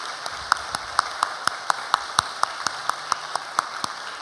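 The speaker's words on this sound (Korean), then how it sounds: "우리가 박수로 한번 격려하겠습니다" A church congregation claps in a steady, even rhythm, the sharp claps evenly spaced and moderately close against a quiet hall background.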